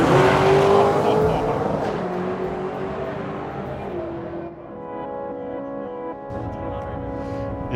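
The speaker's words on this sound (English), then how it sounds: "Not only does he have a Chevy engine in a Ford, it's also supercharged." A newly built supercharged Ford drag car with a Chevy engine roars loudly on a run at an underground Los Angeles drag race, its engine note falling and fading as it pulls away, then a steady idle-like drone remains.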